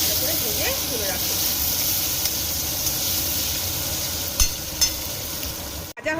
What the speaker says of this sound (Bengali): আলু এবার ভালো করে ভেজে তুলে রাখবো